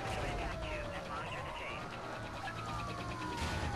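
Police car sirens wail through a chase in the racing game Need for Speed: Most Wanted, a steady rising and falling tone over loud engine and road noise with continuous game sound throughout.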